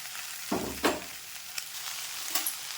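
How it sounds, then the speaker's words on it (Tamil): Onion, red chili, ginger, garlic and tomato sautéing in oil, a soft steady sizzle with a few louder scraping stirs of a spatula against the pan. "எண்ணெய் ஊற்றி வெங்காயம், வரமிளகா, இஞ்சி, பூண்டு எல்லாத்தையும் போட்டு வதக்கி"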